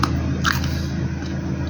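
Close, loud biting and chewing on bitter gourd (ampalaya), with a couple of crisp crunches over a constant low background hum.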